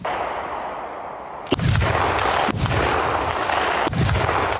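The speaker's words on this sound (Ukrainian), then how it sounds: "Гармату обслужили, гармату зарядили і зараз будемо виконувати стрільбу." Rapid-fire autocannon on a Swedish PBV 302 armoured carrier, capable of about eight rounds per second, fires three loud, sharp bursts about a second apart over a steady rumble of engine or background noise.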